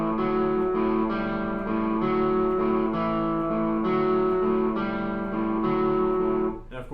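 An electric guitar plays a blues shuffle pattern with a swing feel, with repeated chugging chord figures in a steady lilting rhythm and a slightly driven, effected tone, ending with a short fade.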